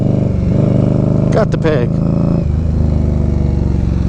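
Indian Scout Bobber motorcycle with Ohlins shocks ridden on an off-road test section, a loud close engine drone with a brief scrape and clatter midway, while a rider talks over it.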